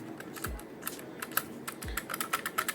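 Keys clacking on a Redragon Kumara mechanical keyboard fitted with swapped switches and keycaps, close and brisk, with two deeper thumps from the noisy spacebar among quicker clicks.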